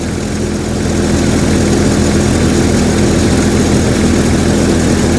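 Jeep XJ engine idling, a steady, close, loud low rumble with an even hum that holds unchanged throughout, and no talking.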